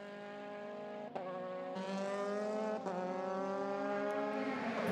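A Euroformula Open single-seater race car winds up through the gears on the Circuit de Barcelona, its engine note climbing steadily in pitch with brief dips at shifts. The sound is loud and continuous, with no talk.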